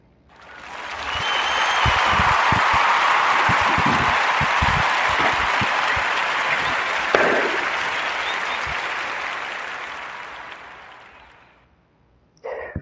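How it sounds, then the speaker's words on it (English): Warm applause swells quickly and holds as steady, even clapping from an audience for nearly ten seconds, then slowly fades out, with faint voices underneath and a short sound at the very end. "Give a warm narrative podcast round of applause for"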